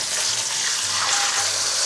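Tamarind water poured into a hot tempering in a pan, giving a continuous hissing, splashing sizzle that stays loud and close for a couple of seconds, with no talking.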